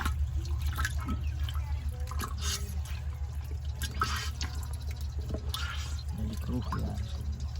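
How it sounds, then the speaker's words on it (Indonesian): Water trickles and drips as bamboo humus is squeezed by hand while mixing a JADAM microbial solution, a soft liquid patter over a steady low hum, with someone talking over it. "dan kita remas juga ini humus bambunya biar keluar dia"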